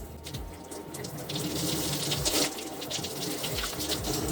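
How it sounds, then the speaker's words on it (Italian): Steady, fairly loud spray of hot shower water running continuously as hair is rinsed, close by and with no talking. "Prima cosa, acqua abbastanza calda e si fa un primo sciacquo."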